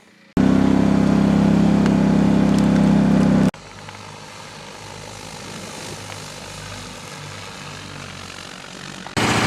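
An agricultural spraying drone buzzes loudly and steadily up close, then drops to a lower, quieter hum before surging again at the end.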